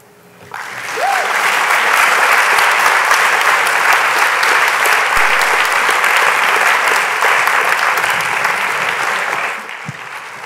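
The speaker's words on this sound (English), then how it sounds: "Please keep your applause going for group three" Sustained applause from a large audience at a National Book Awards reading, rising quickly, holding steady for several seconds, then tapering off near the end.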